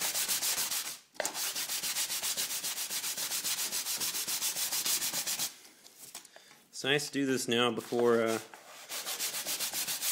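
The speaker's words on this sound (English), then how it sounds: "I just use a little block sander because it doesn't take long to go ahead and get the piece all finished up." Small block sander rubbing across a wooden rudder rib, a close, steady scratchy rasp in quick repeated strokes that pauses briefly, then someone speaks and the sanding resumes.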